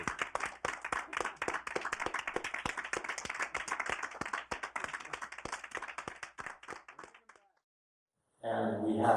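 An audience claps together in a steady, dense patter of many hands that runs for several seconds, then fades and stops, followed by a short burst of other noise.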